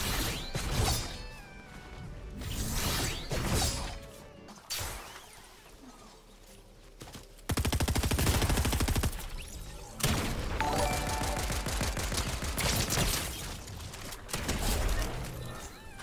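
Rapid pistol gunfire from a lock-on pistol in the Fortnite video game, with bursts of shots rattling over game effects and music, loudest in a dense run in the second half.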